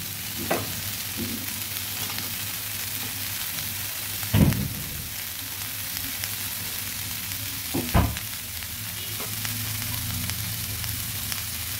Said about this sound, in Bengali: বাদাম পেস্টটা দিয়ে দিলাম।